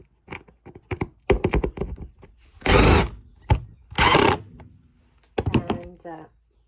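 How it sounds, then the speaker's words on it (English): Two loud bursts of a power drill whirring while drilling and screwing into a van subfloor, separated by clicks and knocks, with lighter tapping and handling noises around them. "Just drill the hole. I'm going to screw it in."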